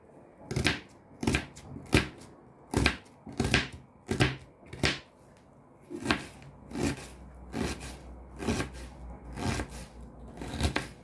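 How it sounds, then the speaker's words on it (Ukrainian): A knife finely chops an onion on a cutting board, about a dozen crisp, sharp strokes in an even rhythm, heard up close. "І одну цибулину зараз перекришу, дрібненько поріжу."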